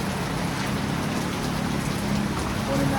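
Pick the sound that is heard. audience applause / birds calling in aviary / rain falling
rain falling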